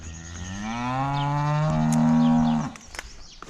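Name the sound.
cows mooing in a pasture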